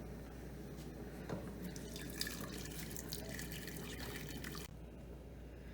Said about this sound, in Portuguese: Eu já tinha colocado a água para ferver, então agora eu só vou despejar no frango.